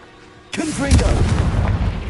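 A Confringo fire spell bursts in Hogwarts Legacy, a sudden loud booming explosion after a quiet half second, followed by a rumbling fiery tail with a voice briefly heard over it.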